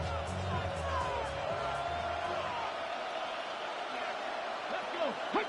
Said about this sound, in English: This crowd making its presence felt early.